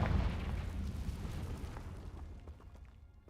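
A fiery Confringo spell explosion in the video game Hogwarts Legacy, a loud deep boom with a rumbling burst that slowly fades away.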